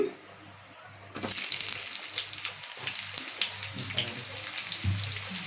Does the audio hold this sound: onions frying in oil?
yes